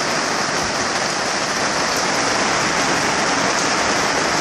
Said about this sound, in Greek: Άμα συνεχίσει έτσι η βροχή εντωμεταξύ, θα έχουμε πλημμύρες πάλι στην παλιά κουκκινιά